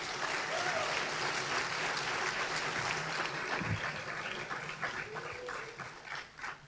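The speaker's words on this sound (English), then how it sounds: "give yourselves another round of applause" Audience applause at the 2024 DSA awards ceremony, a dense crowd clapping steadily for several seconds, then thinning out toward the end with a few scattered claps and faint murmurs.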